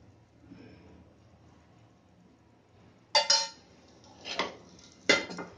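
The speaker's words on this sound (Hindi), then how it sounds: "तो इस तरह से हमने प्लेट में पलट दिया" A bread egg pizza is flipped out of a pan onto a plate: after a quiet stretch, three sharp metallic clatters of pan and utensil against the plate ring out close by, spaced about a second apart.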